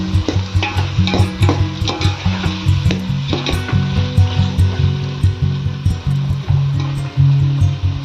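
A spoon stirs prawn biryani with masala in a pot, making rhythmic scraping and knocking strokes over a soft sizzle, loud and close, repeating steadily about twice a second.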